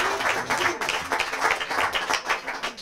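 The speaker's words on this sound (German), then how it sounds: "mal einen kleinen Applaus" A small talk-show audience claps in a lively, brief round of applause, dense overlapping hand claps close by, with no talk over it.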